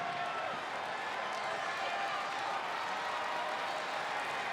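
A wrestling crowd in a Cincinnati arena roars steadily from a distance, a dense, even wash of cheering and clapping with no voices standing out.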